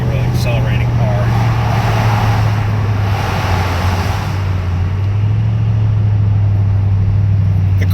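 A 2007 Mercedes-AMG SL55 V8 accelerates hard under a bridge, a loud, sustained deep engine drone heard from inside the car that shifts pitch slightly midway.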